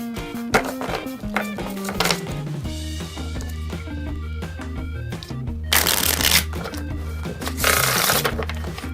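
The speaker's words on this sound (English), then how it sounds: "So to shuffle like a bridge like this" Rapid riffle bursts of playing cards being bridge-shuffled, close up, repeating a few times with a soft fluttering cascade at the end, no voices.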